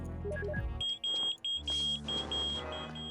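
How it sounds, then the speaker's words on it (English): A shrill electronic alarm beeps insistently amid synthesized tones and effects in Perfect Dark's Area 51 Infiltration level, fairly loud and continuous toward the end. "Sorry about the loud beeping."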